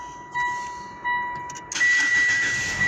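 Mitsubishi car with an overhauled engine started by smart key button, two brief chimes then a starter crank that catches into a steady running idle, close and loud, no talk.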